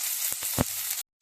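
Onions sizzle and crackle in hot oil with a dense, steady frying hiss, a couple of soft stirring knocks, then it cuts off abruptly.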